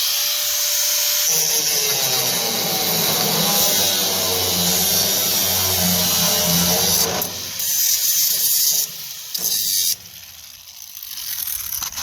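A power tool grinds and cuts through a worn metal tip on a combine header in a farm shop, a steady harsh buzzing whine that breaks into intermittent bursts and pauses toward the end.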